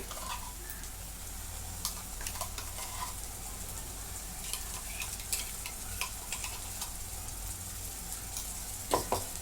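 Ground masala paste roasting in a pan for a Marathi-style val bean dish, a soft continuous sizzle with occasional scraping stir clicks and taps, faint and close, with no talk.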